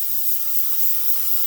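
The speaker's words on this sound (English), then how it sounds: "I'm going to spray just a hair of the reducer" Steady, close hiss of a paint spray gun blowing a small amount of reducer through its tip, a continuous airy spray with no pauses.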